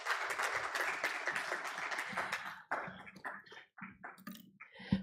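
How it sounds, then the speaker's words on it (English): An audience claps in a round of applause for panelists at a gender and gender-based violence assessment event in Tanzania, dense and steady at first, then thinning into scattered claps, with a voice briefly heard under it. "A round of applause"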